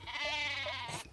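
Cartoonish sheep bleat from the video game Worms Reloaded, a single close, wavering baa with quivering pitch that lasts about a second, alone without talk.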